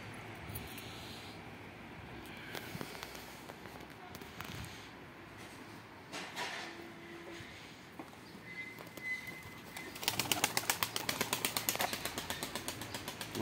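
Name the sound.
pigeons cooing and flapping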